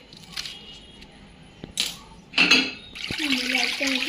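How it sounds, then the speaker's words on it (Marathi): Water splashes into a metal pressure cooker in a couple of short pours, between quiet clinks and kitchen handling noises. "नंतर आपण एका कुकरमध्ये पाणी वतले या दोन गल्लास"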